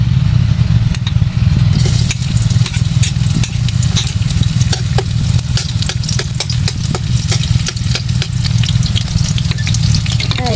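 Chopped garlic and onion frying in used cooking oil, a loud, steady sizzle with crackling pops that continues without pause, set over a low background hum.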